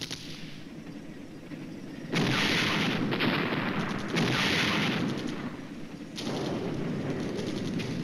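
Artillery fire in the wargame Flashpoint Campaigns Red Storm comes as three loud, heavy booming bursts, each rolling on for a second or two, over a low background rumble, with no talking.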